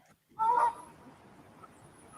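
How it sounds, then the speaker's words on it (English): Geese honking near a lake with a small water-control structure, one loud harsh honk near the start followed by fainter scattered bird calls and low outdoor rumble. "The geese are apparently not happy that I'm here."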